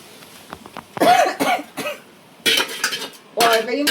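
Someone cooking spicy biryani coughs several times up close in short, harsh bursts, with faint utensil clicks in between.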